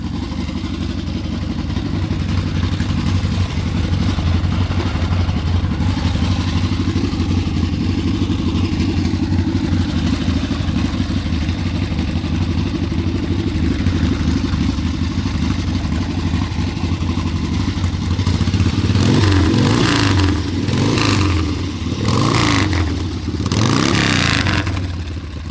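A 1971 Harley-Davidson XLCH 1000 Sportster engine runs steadily and close by, a deep, loud, continuous idle rumble that swells into several throttle blips and revs near the end.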